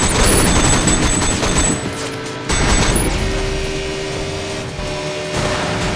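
Gunfire during a car chase in the video game Sleeping Dogs, aimed at a vehicle's tires: loud overlapping bursts of shots with mechanical clatter and booms, easing briefly before starting again.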